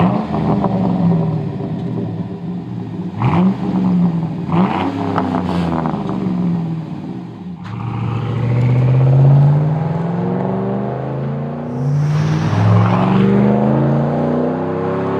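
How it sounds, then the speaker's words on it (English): A 2009-13 GM Silverado 1500 with a 5.3L V8 and a Flowmaster Outlaw cat-back exhaust rumbles deeply, revving in several sharp bursts before settling into a long, loud drive-by roar and a further rise, heard alone. "As an Outlaw system, it is the most aggressive system we offer and will provide a deep performance tone on both the interior and exterior of the truck."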